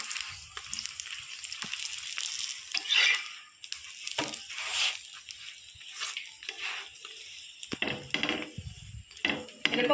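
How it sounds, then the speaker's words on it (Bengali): Paratha frying in white oil in a pan, a steady close sizzle with stirring and pressing scrapes and utensil clinks throughout, with no talk. "আমি সাদা তেল দিয়েই ভাজবো।"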